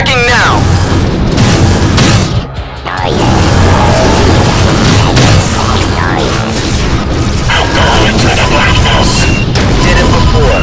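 Spaceship guns firing in Wing Commander Secret Ops during a space dogfight, a steady stream of repeated blasts and booms layered with engine rumble and radio chatter, loud and dense throughout with a brief dip early on.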